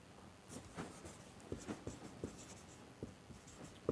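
Chalk taps and scratches on a board in short irregular strokes while a maths formula is written out in a classroom lesson, quiet and close, with no talk.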